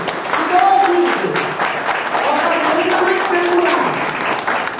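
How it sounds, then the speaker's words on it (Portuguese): A gathered audience applauds loudly and continuously, with voices and cheering mixed into the steady clapping throughout. "Vamos mais uma salva de palmas aqui, ó. Mais uma salva de palmas. Mais alto."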